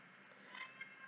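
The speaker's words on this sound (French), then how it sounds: "t'es un gentil petit chat" A domestic cat meows softly and faintly, a quiet drawn-out mewing call with no voices over it.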